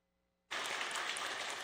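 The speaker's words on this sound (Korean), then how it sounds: "큰 박수로 환영해 주십시오" Church congregation at a summer retreat breaks into sudden, steady applause welcoming a pastor, a dense even clapping that starts abruptly after near silence.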